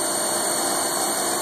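A Haas VF-1 CNC mill spindle runs at high speed, near 6,000 RPM, giving a steady, even whine with a broad airy hiss and no talk over it.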